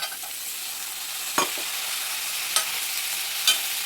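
Food sizzles steadily in a pan while a spoon scrapes and stirs boiled white peas into the mix, with a few distinct knocks against the pan.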